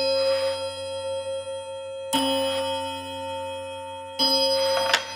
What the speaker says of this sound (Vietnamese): Nó điểm chuông các bác, nó điểm chuông rất là hay luôn.